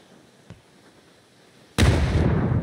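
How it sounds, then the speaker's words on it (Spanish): A grenade blows up in a video game: a faint click comes first, then a sudden loud boom with a rumbling tail that carries on to the end. "yo le estoy tirando granada"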